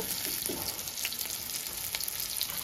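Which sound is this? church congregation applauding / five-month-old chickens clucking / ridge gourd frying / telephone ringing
ridge gourd frying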